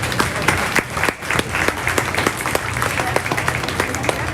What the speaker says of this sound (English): Let's give those kids a big round of applause.